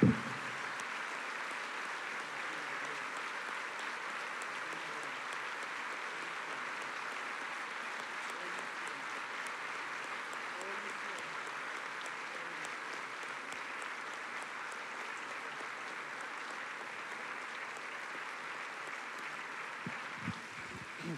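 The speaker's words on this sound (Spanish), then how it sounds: "un fuerte aplauso de gratitud al Dios que nos ama" A church congregation claps in gratitude to God, a steady, soft, distant-sounding wash of applause that continues evenly for about twenty seconds with no talking over it.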